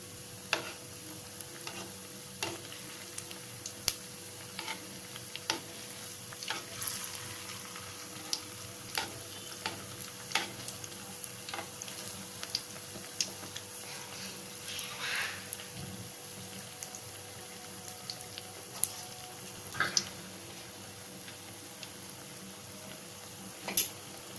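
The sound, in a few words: rava appam frying in pan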